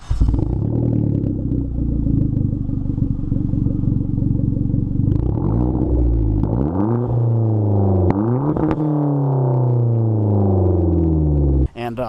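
A very loud, raspy exhaust on a 2010 Hyundai Genesis Coupe 2.0T with no catalytic converters, only resonators, drones and revs, its pitch climbing and falling several times before cutting off near the end.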